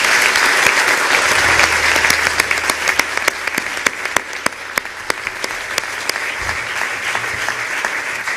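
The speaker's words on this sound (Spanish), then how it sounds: "Un aplauso para él," An audience at a short film festival gala applauds, dense steady clapping at moderate distance with a few sharp individual claps standing out, no talking.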